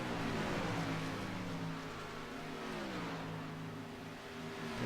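A race truck in a USRC Truck Series event accelerates off pit road, its engine a loud, steady roar that climbs and dips in pitch under the surrounding track noise.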